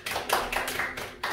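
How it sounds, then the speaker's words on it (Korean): Hands clap together in a classroom during a Korean grammar lesson, a short run of sharp, fairly close claps over about a second, with no talking. "자, 박수."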